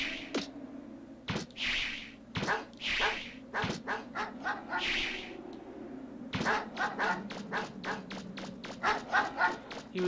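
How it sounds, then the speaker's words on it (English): A dog barking and yelping in the video game Mega Man Legends, a series of sharp repeated barks with thuds and taps, the barks coming in quick bursts toward the end, with some talk or voice sounds mixed in. "I don't know why I kicked that dog"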